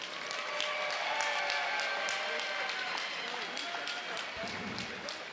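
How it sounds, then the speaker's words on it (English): A crowd applauds two MMA fighters at a cage-fighting championship, with steady, dense clapping running throughout and a faint crowd murmur underneath. "a round of applause for these two fighters"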